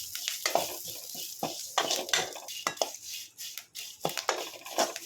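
A handful of dried curry leaves fry in a pan, crackling and sizzling up close while a utensil stirs and scrapes against the metal in uneven bursts.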